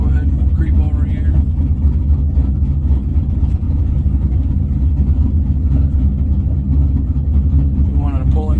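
A car creeps slowly out of a parking space with no throttle applied, its engine giving a steady, low idling rumble with light clatter, while someone talks throughout.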